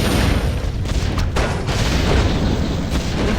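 Warcraft III bats detonate on top of each other in a battle, a dense, loud, continuous barrage of booming blasts and crackling bursts with no pauses.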